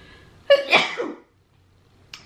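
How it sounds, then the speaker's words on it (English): A single sharp sneeze bursts out from one person close by, with a brief intake of breath before it and quiet afterward. "I gotta sneeze."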